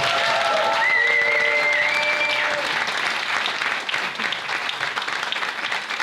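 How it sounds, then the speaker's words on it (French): A dense, steady burst of audience applause fills the room for a birthday celebration. A few whistles ring out near the start before the clapping carries on evenly to the end. "faites un tonnerre d'applaudissements pour eux"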